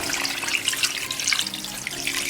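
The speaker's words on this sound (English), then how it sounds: "So we're going to go in with about 5 cups of water" Water pours steadily from a tap or jug into a pot of searing goat meat for Jamaican curry, a continuous bright splashing rush that stays close and loud throughout without talk.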